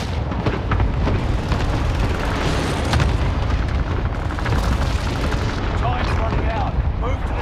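Airstrike explosions and gunfire on the Fortune's Keep map in Call of Duty: Warzone, a dense, loud, continuous barrage of booms and shots rumbling throughout, with voices faintly mixed in.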